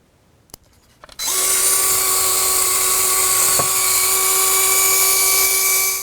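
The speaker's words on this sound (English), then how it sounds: "with the Line-X you may actually need to screw it in for it to go through." A power drill drives a bolt through a Line-X coated floorboard on a Can-Am Spyder F3, with a couple of brief clicks before a loud, steady high-pitched whine runs for about five seconds.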